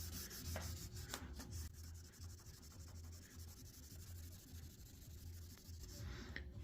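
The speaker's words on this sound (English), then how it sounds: "And then I'm gonna take my 1500 grit sandpaper on this nice little block here, and we're just gonna sand it." Fine 1500 grit sandpaper on a small block works over clear-coated paint on a Chevy C10, giving a soft, steady rubbing hiss in quick strokes, close by with no talk.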